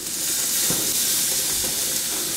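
Steaks searing under a broiler give off a steady, close hiss of steam and sizzle with a few faint crackles, and no voices are heard.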